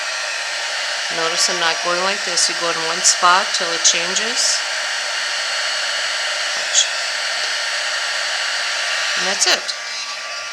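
A heat embossing tool blows hot air onto embossing powder for papercraft, a steady close whooshing hiss that runs throughout while someone talks over it.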